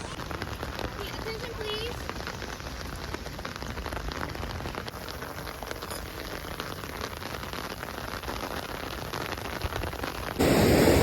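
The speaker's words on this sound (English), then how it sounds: "It is currently raining" Steady rain falling at a beach in Seoul, South Korea, a constant close hiss of drops with a brief announcement voice, growing louder in the last second.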